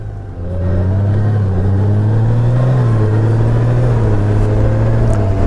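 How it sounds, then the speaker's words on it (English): A 2020 Honda Gold Wing motorcycle rides along, its engine a loud, steady drone whose pitch rises and dips slightly as it shifts gears. "Now the bike is shifting smoothly, but I don't know if it's significantly smoother than the 2018."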